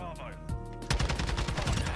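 Gunfire from an SPX-80 sniper rifle in Modern Warfare 2 ranked play: a loud shot sounds, then a dense burst of heavy gunfire and explosive noise fills the rest of the moment, with a voice underneath.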